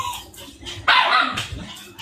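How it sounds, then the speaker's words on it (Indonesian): A dog barks close by with loud, sharp yips and barks in a noisy indoor setting, mixed with brief whimpers, and human voices in the background. "Memang harus menggonggong si Eke dah ini biar tenang anak-anak"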